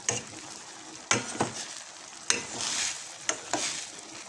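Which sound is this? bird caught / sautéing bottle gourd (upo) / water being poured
sautéing bottle gourd (upo)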